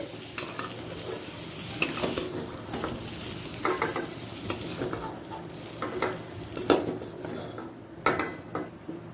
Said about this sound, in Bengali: কাঁচকলা আর আলুটা ভাজা হয়ে গেছে এরপর অন্য পাত্রে আবার তুলে নিচ্ছে